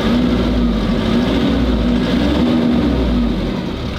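A broken-down truck's diesel engine idles steadily at low revs to purge air bubbles, a continuous low rumble with a faint tonal hum running unchanged and loud from start to finish.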